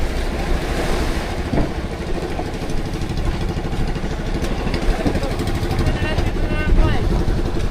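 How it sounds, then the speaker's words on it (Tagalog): A fishing boat engine at sea off Surigao runs with a steady, throbbing rumble close by, while people talk over it. "pinandar natin yung makina natin"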